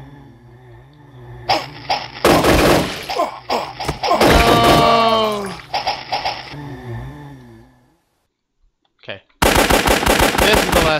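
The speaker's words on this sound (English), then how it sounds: "By far, the machine gun's the best one." Rapid automatic gunfire from a machine gun in the zombie video game Shambles, loud bursts starting and stopping with brief gaps and a short silence near the end before the firing resumes.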